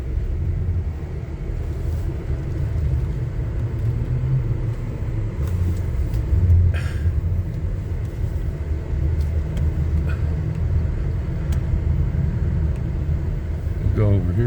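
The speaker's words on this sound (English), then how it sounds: "Here comes their big rig." A big rig truck pulls into a snowy parking lot on a bitterly cold morning, its deep engine rumble running steadily throughout, with people talking over it and a few brief clanks near the end.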